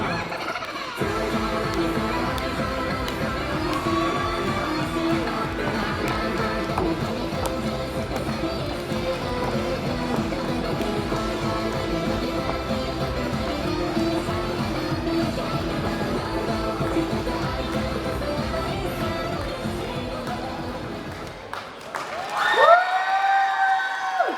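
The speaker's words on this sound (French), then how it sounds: "Et un tonnerre d'applaudissements pour nos derniers participants." A crowd at a cosplay show applauds and cheers for the last participants, a dense, sustained roar of clapping and shouts that holds steady and then drops away near the end.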